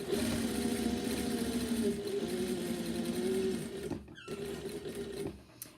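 A sewing machine running a skirt seam and backstitching at the slit, a steady close mechanical whir that stops briefly near the end and restarts for a short burst.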